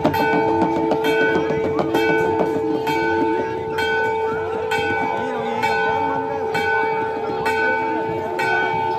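Temple bells ringing at Kedarnath temple during aarti, a steady clamour of repeated metallic strikes with sustained ringing tones, loud and close, continuing throughout over a busy crowd background.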